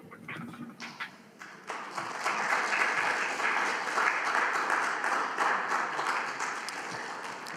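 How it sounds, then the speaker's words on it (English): Applause from an online audience after a talk on shared parenting, starting as scattered claps and swelling into a steady, fairly loud round that holds to the end. "I hope you could hear the applause you received for this presentation"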